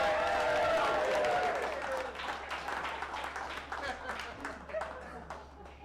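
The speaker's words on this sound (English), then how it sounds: "Keep that applause going" Comedy club audience claps as a guest comes up, applause fading into scattered individual claps while voices talk over it.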